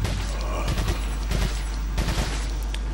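Gunfire in the Resident Evil 4 Wii edition, a player shooting at dynamite: rapid bursts of loud shots crackling in clusters over a constant low hum, with a voice faintly underneath.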